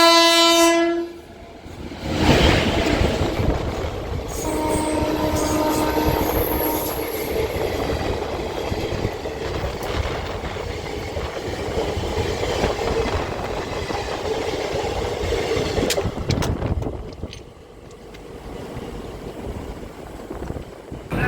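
The Howrah–Kalka Express train rumbles past at length near Deen Dayal Upadhyaya station, India, with steady clattering wheels and rail noise, opening with a long blaring horn, loud and close throughout.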